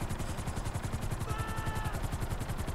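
A helicopter's rotor in Grand Theft Auto V thumps in a fast, steady pulse close by as it lands, with a brief high whine rising partway through.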